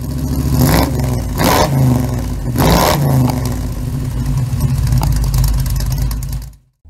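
A 1936 Chevy coupe starts driving off for a cruise, its engine loud and close, revving in three surges before settling and cutting away abruptly at the end.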